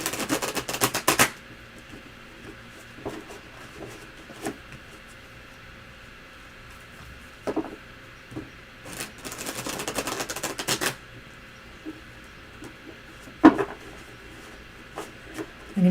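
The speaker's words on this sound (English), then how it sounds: "when I shuffle this deck" Deck of grunge-themed tarot cards being shuffled, with several short bursts of riffling and rubbing card noise separated by quiet pauses.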